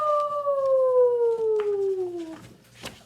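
A human voice imitates a dog howling, one long loud sliding howl that falls steadily in pitch for about two seconds before breaking off, followed by a few faint clicks.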